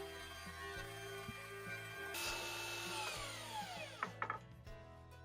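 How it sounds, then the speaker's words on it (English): Handheld router rounding over the top edges of ripped-down 2x4 cedar boards for deck cable railing, a steady close whine with a rising pitch sweep midway and a few sharp knocks near the end. "rounding over the tops with a router"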